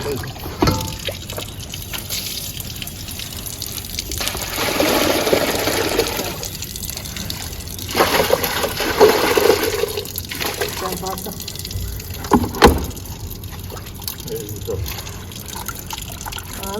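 Running water pours and splashes as mangoes for pickle are rinsed, with bursts of louder gushing and sloshing while people talk over it.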